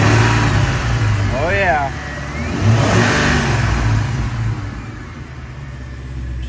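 A Ford 5.4-litre two-valve V8 truck engine, running smoothly again after a dead ignition coil and fouled plug were replaced, rumbles close by and revs up then settles back, with someone briefly speaking.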